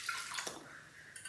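Water from a measuring cup is poured into a pot for a sugar syrup, making a short splashing pour with a brief trickle at the end, close and fairly quiet.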